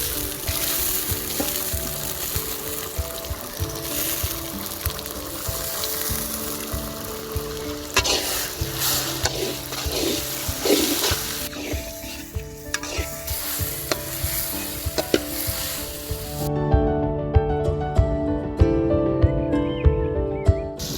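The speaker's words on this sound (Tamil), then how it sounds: "நம்ம என்ன பண்ண போறோம், தக்காளி போடுறோம்." Tomatoes fry with golden onions in a pan, a loud continuous sizzle broken by the scrape and knock of a spatula stirring, with sharper clanks toward the end.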